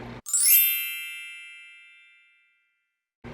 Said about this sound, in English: hitting that notification bell